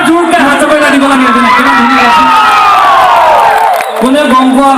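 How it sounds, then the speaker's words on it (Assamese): A large audience cheers and whoops loudly and continuously at a live Bihu stage show, with dense crowd noise and shouting that stays full throughout. "এবাৰ জোৰকে হাত চাপৰি দিব লাগে"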